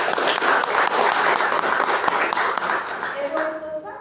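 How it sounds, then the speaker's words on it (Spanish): Audience at a Paraguayan science fiction event applauds a group of people just named, brisk, full clapping that tapers off toward the end as a voice and a tone come in. "Fuerte aplauso para ellos"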